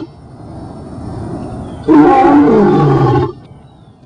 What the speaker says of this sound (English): The lion's majestic roar was designed by Ya'o, and the lion's roar produces the pronunciation of his holy name.